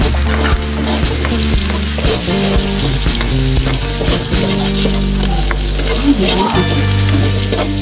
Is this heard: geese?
no